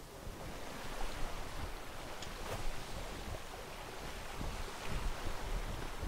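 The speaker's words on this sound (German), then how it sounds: "Da fährt auch wieder ein großes Schiff" A large ship sails across open sea in the video game ATLAS, carried by a steady, quiet wash of waves and wind that rolls on without a break.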